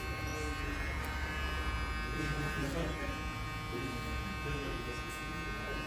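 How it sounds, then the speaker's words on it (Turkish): An electric hair clipper shaves hair during a men's haircut in a barbershop, giving a continuous, close buzzing hum that runs throughout while someone talks over it. "Burada makinenin köşesini kullanarak tıraş edeyim arkadaşlar."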